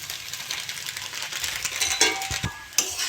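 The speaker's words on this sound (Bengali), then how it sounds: "আর একটু নেড়ে চেড়ে একটু ভালো করে ভেজে নেব" Chow mein frying in a pan with steady hiss and sizzle, broken by spatula scrapes and metallic clinks against the pan, close and moderately loud, no talking.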